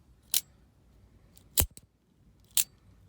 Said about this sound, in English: has a nice clicking sound to it